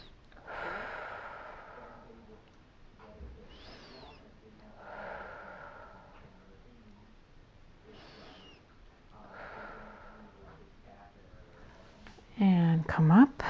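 Slow, deep breaths during a gentle stretching exercise, several long audible inhales and exhales spaced a few seconds apart and fairly close, ending with a brief snort-like sound.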